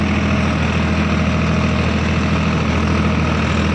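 A fully warmed-up tractor engine idles steadily and loudly up close, a continuous low rumbling drone with no breaks and no voices.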